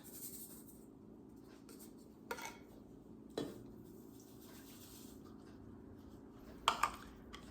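Dry sugar and salt poured into a mixing bowl while making Easter bread, a soft quiet pouring hiss broken by three brief clinks of a utensil against the bowl.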